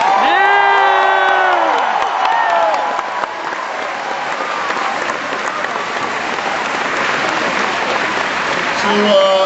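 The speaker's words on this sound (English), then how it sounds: "Please give a big round of applause to Patrick Lynch." A rally crowd in Rhode Island applauds and cheers for Patrick Lynch: dense, loud, sustained clapping with whoops and shouts that carries on for the whole stretch, with a voice rising over the roar at the start.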